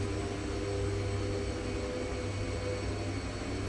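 Twin turboprop engines of a DHC-6 Twin Otter idling in the X-Plane 11 flight simulator, set at Rothera in Antarctica: a steady, unbroken whine-laden drone with a faint hum underneath, holding even throughout.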